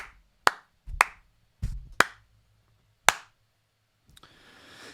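A handful of sharp, separate hand claps ring out close and dry with short silent gaps between them, ending in a faint hiss.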